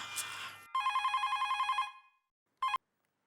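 A mobile phone rings with a rapid, pulsing electronic trill, a burst of about a second that fades, then a brief second ring after a short silence, close and clear with no talk.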